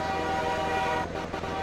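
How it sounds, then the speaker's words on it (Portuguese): A Scania V8 truck horn in the video game Farming Simulator 2015 sounds as a steady, loud, multi-toned blast over the low engine rumble, cutting out briefly near the end before resuming. "mais uma buzina aí. Diferenciada."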